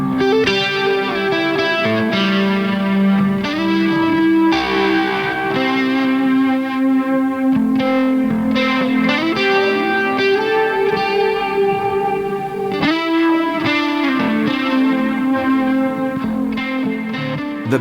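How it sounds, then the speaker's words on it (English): Electric guitar lead noodling on a Gold Fernandes through a shimmer echo, pitch-split, spacious modulated repeats ringing in a continuous wash of sustained notes, loud and alone. "it's a shimmer echo. It's doing the pitch splitting and spaciousness of a shimmer reverb, but with modulated repeats."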